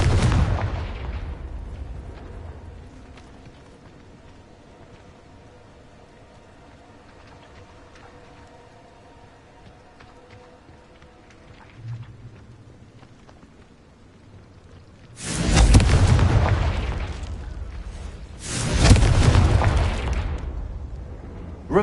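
The Confringo explosive spell bursts in a Harry Potter video game, one booming blast at the start, then quiet, followed by two heavy explosions in quick succession near the end.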